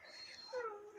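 A house cat gives a single soft, faint meow, rising and then falling over about a second in a quiet room.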